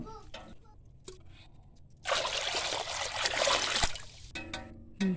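Tap water runs in a steady trickling stream for a couple of seconds while small fish are washed, with quieter handling noises before and after.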